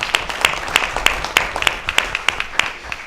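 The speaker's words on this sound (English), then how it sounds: "I notice every time the chief of police says something, everybody starts clapping when it gets done" An audience at a mayor's community night claps for the police chief, a fairly close, steady patter of hand claps that has no voices over it.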